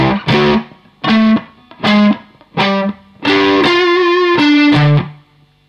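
Distorted electric guitar plays a riff, two bars of loud chopped notes ending on a longer sustained phrase, with no talking.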